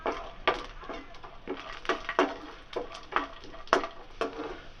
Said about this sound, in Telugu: ఈ నేతిలో డ్రై ఫ్రూట్స్ వేసి ద్వారగా వేయించుకోవాలి